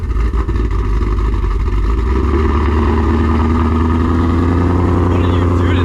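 A car built to run on E85 fuel fires up and idles loudly up close, a deep, steady engine rumble with slight revving, while people talk over it.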